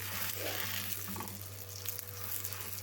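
Crepe batter cooking in a frying pan greased with a small dab of butter, giving a steady soft sizzle and fry that runs continuously and close, with no talking over it.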